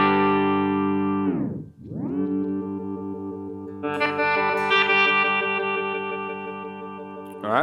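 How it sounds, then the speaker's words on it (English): Electric guitar run through a Headrush Time Warp delay set to 200 ms: a sustained chord dives steeply down in pitch, ramps back up, then a second warbling, echoing chord smears and repeats with a warped, modulated delay tail. "there's a middle section of the sound where it kind of acts like a dive bomb, but then it ramps back up and it goes into this warping kind of delay effect"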